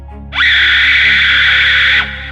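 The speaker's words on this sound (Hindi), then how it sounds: "अंधेरे में एक औरत की बिल्कुल कंपा देने वाली चीख गूंजती है" A loud, piercing scream in a horror story, held steady at a high pitch for over a second after a quick rise, then cut off sharply, over a low constant hum.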